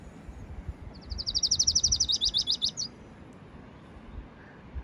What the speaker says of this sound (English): Lucy's warbler.